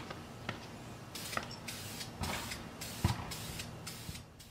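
Short hissing bursts of an aerosol spray paint can repeat in quick pulses, close and fairly loud, with small clicks between sprays, as a light coat is applied around an alloy wheel rim under repair.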